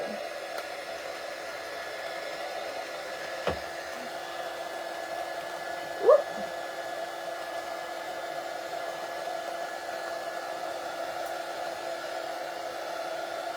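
A hair dryer blowing steadily on paint, a constant whooshing hum held at an even level for the whole stretch, with a couple of faint knocks and no talking.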